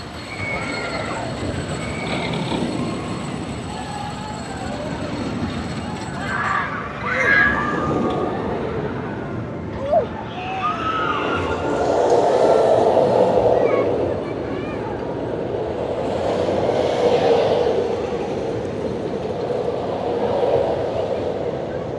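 A ride train at Six Flags Fiesta Texas rumbles and clatters past with squealing wheels, swelling louder midway then fading, with crowd chatter and voices underneath.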